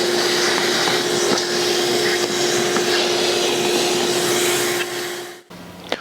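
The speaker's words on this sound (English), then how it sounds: "once you're done with the vacuuming" A shop vacuum runs loud and steady with a strong constant whine while cleaning a table saw, then cuts off abruptly near the end, leaving a quieter hum.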